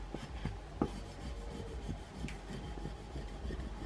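Squeegee rubbed over vinyl applied to a cutting board to burnish it, a quiet, steady scraping and rubbing close by with faint taps, no talk.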